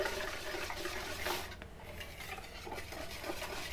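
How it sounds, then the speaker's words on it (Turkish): Sifted flour is folded and stirred into a lemon sponge cake batter in a bowl, giving a soft, continuous scraping and rubbing sound at close range with no pauses. "Unumu da karıştırıyorum."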